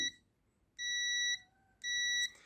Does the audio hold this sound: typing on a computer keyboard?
no